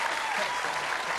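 An audience in a studio gives a brief burst of dense, steady applause, heard from some distance and fairly quiet.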